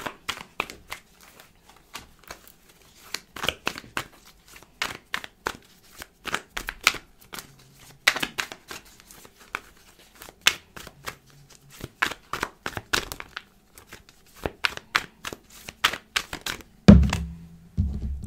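Tarot cards are shuffled by hand in a rapid series of crisp riffling clicks and soft slaps. They come in irregular bursts, close and clear, with no talk over them.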